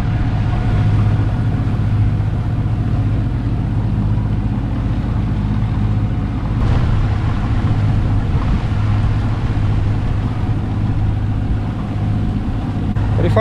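Boat engine droning steadily while a skipper steers by hand through a short channel in the Swedish archipelago against some current, with wind and water noise over the low hum.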